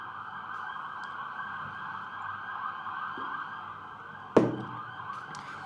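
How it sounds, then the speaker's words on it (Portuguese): Emergency vehicle sirens wail steadily in the distance, forming a continuous tonal drone, broken by one sharp nearby knock or bang near the end. "Trocentas mil sirenes aqui na minha cabeça."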